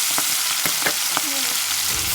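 Masala-coated quail frying in oil over a low flame, a steady close crackle and sizzle with several brief taps and stirring clicks, no voices.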